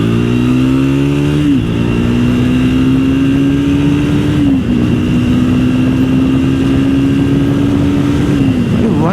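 A 2024 Triumph Speed 400 motorcycle accelerates hard, its loud engine note climbing steadily through two gear changes, each marked by a short dip before the pitch rises again, heard close with no talking.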